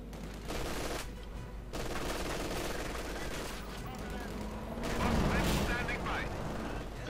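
MG42 machine gun fire rattles in Company of Heroes 2, a dense stream of battle sounds with sustained bursts and louder impacts near the end, under game noise and commentary.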